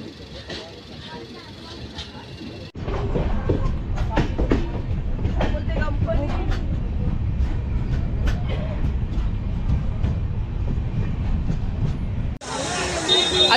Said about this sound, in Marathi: आता फायनली ट्रेन पोहोचली आहे रत्नागिरीला